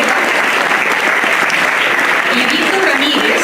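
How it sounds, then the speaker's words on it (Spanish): Warm audience applause at an educational orchestra concert greets the philharmonic's principal trumpeter, a dense, steady wash of clapping from a large crowd that holds level throughout. "les pido un caluroso aplauso para Cristian Muñoz, primera trompeta"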